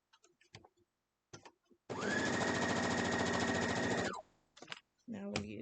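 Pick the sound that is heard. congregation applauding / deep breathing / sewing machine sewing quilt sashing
sewing machine sewing quilt sashing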